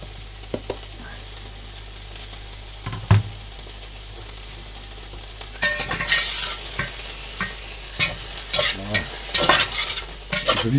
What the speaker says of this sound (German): kurz bevor wir fertig sind mit den Anrösten, geben wir gleich die Zwiebel und den Knoblauch hinzu